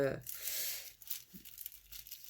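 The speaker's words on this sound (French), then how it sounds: "Toujours l'exercice délicat d'ouvrir ces paquets sans tout déchirer." A gift package's wrapping paper is torn and crinkled open in short, close bursts, with quiet pauses between the rips.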